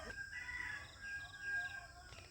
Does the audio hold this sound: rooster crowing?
yes